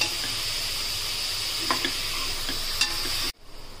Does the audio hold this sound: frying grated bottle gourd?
yes